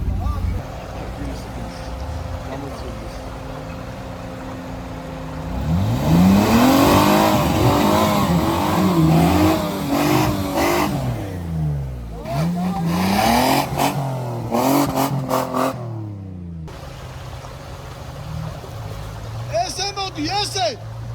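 Off-road cars from a club outing near Gori, Georgia, revving their engines up and down in loud, rising and falling surges, with people talking close by between bursts.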